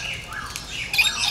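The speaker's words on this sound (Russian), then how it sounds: "Попугайчик, ты приползешь к нам?" A parrot at the San Diego Zoo gives a harsh, raspy squawk that swells near the end, loud and close amid open outdoor background noise.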